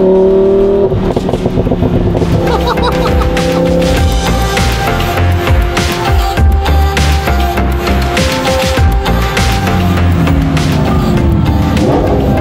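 A Lamborghini Huracan accelerates hard, its loud exhaust roaring up through the revs with crackling pops and bangs scattered throughout, close and dominant.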